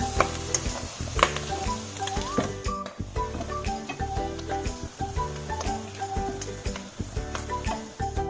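Prawns sizzle and crackle steadily in hot oil as they roast, with occasional clicks of a utensil against the pan and no talking.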